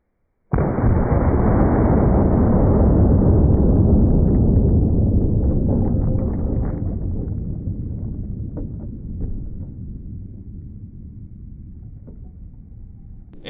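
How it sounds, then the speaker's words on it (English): A Glock 23 pistol firing .40 S&W Federal Punch ammunition: one sudden, very loud report that opens into a long, roaring tail, which fades slowly over more than ten seconds. "we're shooting it out of the Glock 23"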